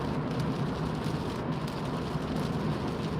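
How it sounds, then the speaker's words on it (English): Heavy rain while driving on a UK motorway at night, a dense, steady roar of water and spray with low road rumble beneath, constant and loud without a break. "The heavy rain."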